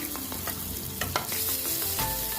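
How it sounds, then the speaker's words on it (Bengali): Chopped garlic frying in white oil in a nonstick wok on a gas stove, a close, steady sizzle with a few spatula scrapes and stirring clicks, with no voices. "এর মধ্যে দেব সাদা তেল। প্রথমে দেব রসুনটা"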